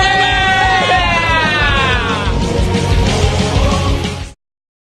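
A large crowd of Korean football fans yelling and cheering in the street at a 2014 World Cup event, loud and sustained, then cutting off abruptly near the end.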